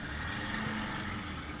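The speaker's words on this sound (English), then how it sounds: "That guy apparently also has a loud exhaust on his car." A steady, throaty engine rumble drones without a break in American Truck Simulator, loud and close, like a car with a loud exhaust idling or cruising.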